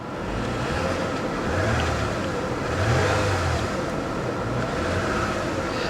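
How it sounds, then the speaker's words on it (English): A Lexus car engine at a Copart auction yard is revved, swelling to a few louder surges over a steady running drone, close and fairly loud without talking. "Give it a little rev."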